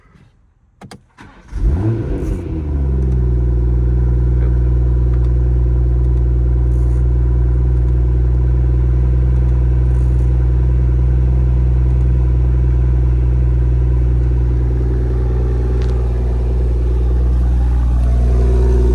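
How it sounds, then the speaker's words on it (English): A BMW X3 M40i engine fires up, then settles into a loud, deep, steady sport-exhaust rumble with valves open that holds for a long stretch. "Let me just show you how the exhaust sounds really quick."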